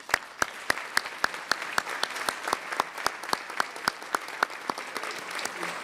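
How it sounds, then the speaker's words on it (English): Sustained applause from a conference audience honoring award winners at a government event on community reconstruction, dense clapping with sharp regular peaks continuing steadily throughout. "How about one final round of applause for all of our award winners?"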